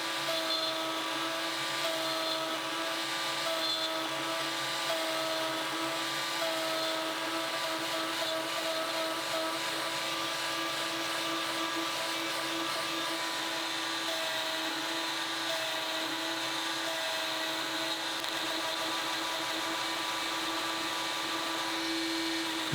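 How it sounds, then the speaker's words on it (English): A pantograph router cuts mortises in workbench parts in a workshop, giving a steady, loud motor whine with a constant high-pitched drone that runs unbroken throughout, with no talking. "I can position my first piece, clamp it"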